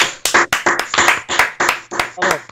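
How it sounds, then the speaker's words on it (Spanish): Rhythmic clapping from a few people at a casual bar chat, distinct sharp claps in a regular beat, close and loud, with voices mixed in. "Por favor, un fuerte aplauso para Renato."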